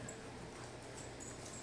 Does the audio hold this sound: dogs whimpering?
yes